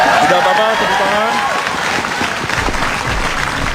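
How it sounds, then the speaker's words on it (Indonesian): A school quiz competition audience applauds the contestants with loud, dense, sustained clapping close by, with voices mixed into the crowd noise. "Tidak apa-apa, tepuk tangan."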